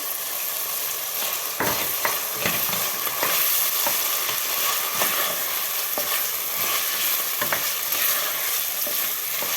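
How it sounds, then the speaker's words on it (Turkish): Diced potatoes sizzle steadily in a hot frying pan, with occasional scrapes and stirring knocks from a utensil, close and fairly loud, no voices. "Bir iki dakikada bununla böyle kavuralım."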